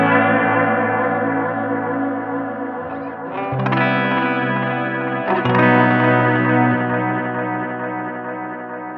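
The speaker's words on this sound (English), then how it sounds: "right now I have it for a ramp down sound." A UAFX Galaxy '74 tape echo pedal carries a sustained, effects-laden guitar tone whose pitch swoops and ramps down twice, with echoing chorus-like repeats trailing steadily throughout at a loud, even level.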